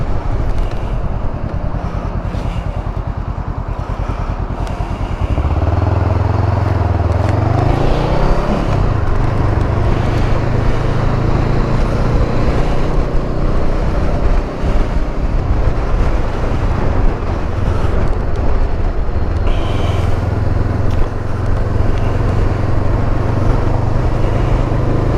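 Honda CMX 500 motorcycle on the move at around 25 with the helmet visor up, a steady low engine drone under loud, constant wind roar for the whole stretch, with a brief gear-change dip partway through.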